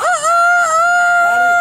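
A man imitates a rooster crowing with a loud, sustained cock-a-doodle-doo, a rising call that holds a steady pitch and then wavers at the end, close and alone.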